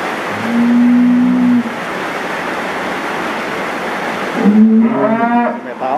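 PO, Simmental and Limousin cattle in a pen give two loud, drawn-out moos, one early and one late, over a constant noisy background of barn ambience.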